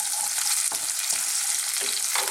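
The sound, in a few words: onions frying in a wok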